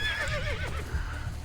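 A horse in Assassin's Creed: Brotherhood gives a loud, close whinny with a wavering, falling pitch, over faint hoof clops and no talk.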